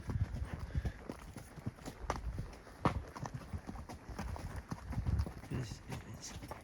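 Horse hooves clip-clop steadily along a rocky trail at Indian Creek during a horseback pack trip, the irregular beats close and clear with faint rustling and a brief rider's voice.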